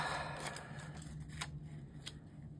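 Scissors snip through a paper planner page in a few quick, close cuts over a steady low background hum, with no talking.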